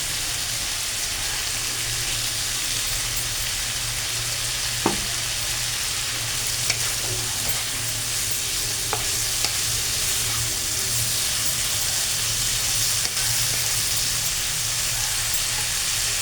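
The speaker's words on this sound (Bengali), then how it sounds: "আঁচটাকে আমি ফুল করে দিয়েছি আর এটাকে আমি একটুখানি নাড়াচাড়া করে দিই" Food frying in a pan over full heat, a dense, even rain-like sizzle throughout with a few faint stirring taps, close and steady.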